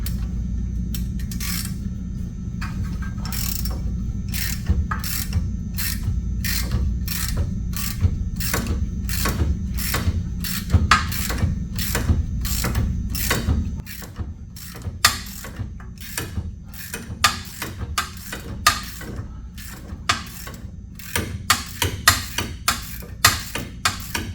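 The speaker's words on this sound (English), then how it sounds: "I'm gonna go ahead and just try to get this with ratchet" Ratchet wrench working an 18 mm nut loose on a box van's front suspension, giving a long run of sharp, evenly spaced clicks, close and fairly loud over a low background rumble, with the clicking quickening toward the end.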